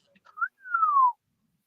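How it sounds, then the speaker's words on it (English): A person whistles a short two-part tune, a brief rising chirp followed by a longer sliding note that falls gradually, clear and close against a quiet background. "whistle was nice"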